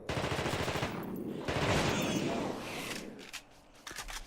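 Loud, sustained submachine-gun fire in The Thing Remastered crackles in dense rapid bursts that fill the scene, with brief gaps and a few sharper shots near the end.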